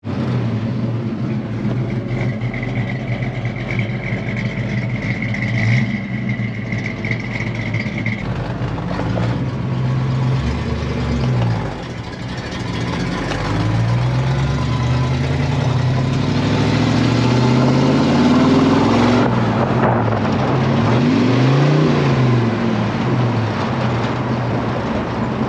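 The engine of a fire-damaged, rusty Mercury Comet GT car on its first drive: a steady rough drone with wind noise, swelling in a few revving surges and dips throughout.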